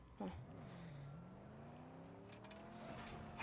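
Car engine in the Mad Max video game, a steady mid-pitched drone that slowly climbs in pitch as it revs, running continuously with a brief louder burst near the start.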